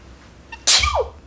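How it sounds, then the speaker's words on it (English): One loud, close sneeze erupts with a quick inhaled lead-in, then tails off into a breathy fade against a quiet indoor background. "I'm gonna sneeze."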